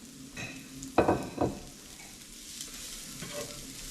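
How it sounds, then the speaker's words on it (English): Celery, onion and carrots are sautéed in a pan: a soft background sizzle with two short stirring scrapes close together, then a quieter frying hiss. No speech. "get a nice saute of all those together"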